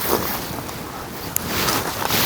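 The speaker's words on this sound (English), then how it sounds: "Like the water looks so still, but I'm hearing it like sloshing all over the place." Water sloshes in a Scottish loch beside a castle, a soft, continuous washing with wind noise and one brief sharp knock partway through.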